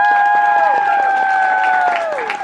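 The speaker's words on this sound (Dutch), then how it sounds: "Ik wil dat doen onder een luid applaus." A crowd applauds and cheers at a book release event, with clapping running under loud sustained music tones that slowly fade and drop in pitch.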